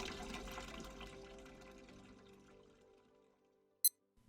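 Water flowing past a probe-lens camera set low on a small tripod rushes steadily near the microphone and gradually fades away, ending with a brief sharp click.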